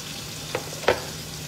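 Fatty meat frying in a pan as the fat renders: a soft steady sizzle with two short sharp spits or stirs, close and fairly quiet, no talk.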